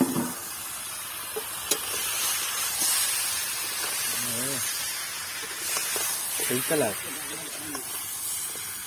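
Raw fish, a gagra caught in the Sundarbans rivers, hits a hot pan and sizzles in a steady hiss while people talk over it.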